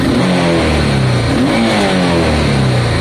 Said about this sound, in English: It revs lovely, watch.